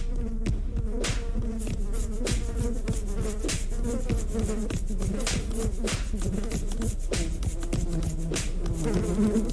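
Mosquitoes and other flying pests buzz close and loud in a dense, continuous whine, their wingbeats wavering in pitch as they hover and dart, with no talking.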